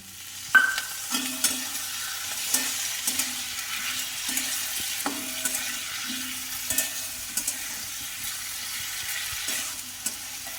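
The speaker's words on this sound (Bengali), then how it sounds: "সামান্য একটু জল দিচ্ছি।" A pointed gourd, potato and chickpea curry sizzles in the pan after a splash of water, with steady close frying hiss and occasional scraping stirs.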